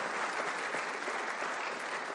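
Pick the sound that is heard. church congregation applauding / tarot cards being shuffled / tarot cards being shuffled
church congregation applauding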